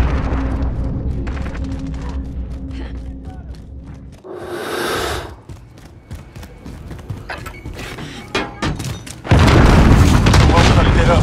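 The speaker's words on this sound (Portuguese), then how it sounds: "Granada lançada." Grenade explosions in the Call of Duty: Modern Warfare video game: heavy booms land amid gunfire and mechanical game noise, with a loud blast burst near the end.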